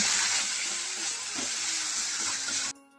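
Ground cumin, turmeric and Kashmiri chili powder frying in oil in a pan for a paneer and broccoli curry, a steady close sizzling hiss that cuts off abruptly near the end.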